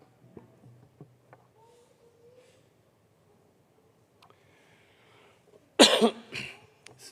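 A preacher at a church service gives one loud, harsh cough from a hoarse throat, up close after a stretch of near silence with faint small sounds.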